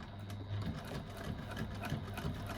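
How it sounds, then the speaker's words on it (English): A sewing machine stitches a seam with an eighth-inch allowance, a soft, steady whirring hum with a quick regular rhythm, faint and close, heard alone. "now we're going to stitch down one side all the way along the bottom and back up the other side"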